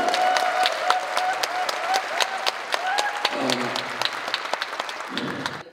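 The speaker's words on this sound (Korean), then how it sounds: "박수로 환영합니다." Audience at a church prayer meeting in Incheon, marking the March 1st Movement anniversary, gives a speaker a welcoming round of applause: sharp, distinct hand claps in steady succession over a faint tonal background, tapering off at the end.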